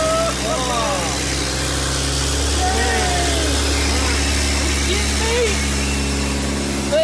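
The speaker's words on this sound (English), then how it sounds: "Let's see if this thing will fire up with a brand new exhaust." A rebuilt 2023 BMW M3 fitted with a brand-new exhaust runs with a loud, steady, low engine rumble close by, while someone talks excitedly over it.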